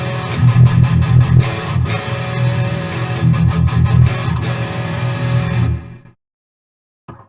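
A loud distorted electric guitar plays through a Joyo Zombie II XL tube hybrid amp head with reverb, its strummed chords pushing a nearby mic close to clipping, then cutting to silence with a faint final hit.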